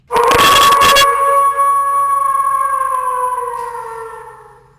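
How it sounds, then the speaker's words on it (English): A single long, loud howl rises after a brief burst of noise, holding a steady pitch for several seconds before slowly fading out. "It's the longest wolf howl I've ever heard"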